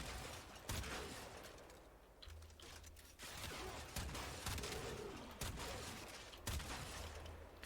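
Kuva Drakgoon gunfire in the video game Warframe, repeated heavy blasts at irregular intervals mixed with mechanical clanks and ratcheting, fairly quiet overall with no talking.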